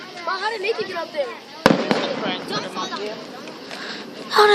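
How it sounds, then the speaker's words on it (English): Fourth of July fireworks bursting over a shopping area, with one sharp nearby bang standing out amid ongoing crackle and distant pops, while several people chatter and exclaim throughout. "Look at the fireworks."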